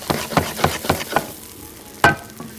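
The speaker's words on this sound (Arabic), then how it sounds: "ونقلب هنا" Spices are stirred in a hot cooking pan with a spoon, a quick series of about five scraping strokes, then a short pause and one sharper scrape, all close and moderately loud.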